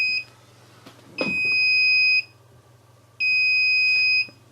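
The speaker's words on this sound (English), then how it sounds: "this causes an alarm, an audible warning," A DVR alarm gives two long electronic beeps, steady and high-pitched, separated by a pause, with a low hum underneath and a faint clunk before the first.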